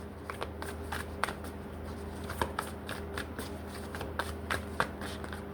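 A large deck of tarot cards being shuffled by hand, with a steady run of soft riffling slaps and flicks close up, faint and continuous with no talking.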